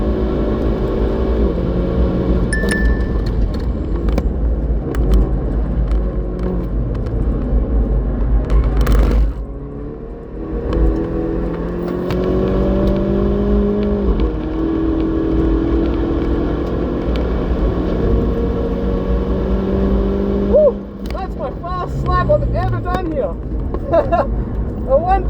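Hyundai i30 N on a track lap at Morgan Park: a loud in-cabin engine drone climbs in pitch through the gears, with clear shift breaks around ten and twenty-one seconds, and a driver talking over it.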